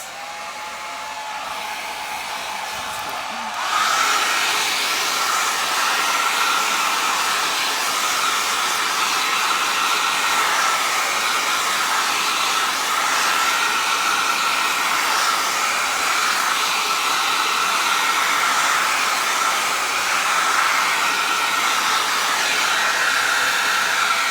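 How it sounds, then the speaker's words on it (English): A hair dryer blows with a steady, loud whooshing hiss that kicks in after a few seconds of quieter room noise and continues unbroken to the end. "I'm gonna hit it with a little hair dryer, so excuse the noise for a few seconds"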